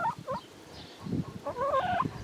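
A hen's low, throaty clucking while laying an egg, with a stretched, wavering cackle rising near the end, close by and fairly soft.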